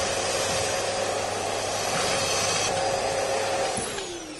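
A vacuum cleaner runs over a leather lounge suite, giving a loud, steady whining roar that holds evenly for several seconds before it starts to fade near the end.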